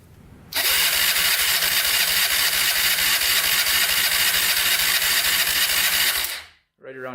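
A Honda 300ex quad engine cranks and catches, then runs loud and steady close by for about six seconds before cutting off abruptly, with a brief sound after it stops.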